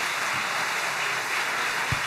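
Church congregation applauding, a dense steady wash of clapping that holds at an even level throughout, with no voices.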